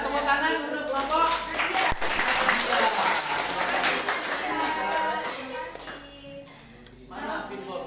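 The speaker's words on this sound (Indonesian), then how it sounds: "tepuk tangan untuk kelompok" Classroom applause for a student group, a dense burst of children's clapping mixed with chatter and voices that stays steady for most of the span, then thins out near the end.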